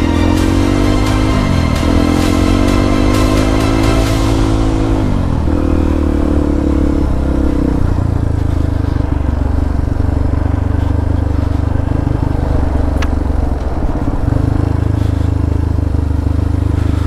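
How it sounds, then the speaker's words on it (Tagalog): A motorcycle engine drones loudly and close on a climbing mountain road in La Union, its pitch rising and falling with revs while rattling and wind roar persist throughout. "Ingay ng motor ah."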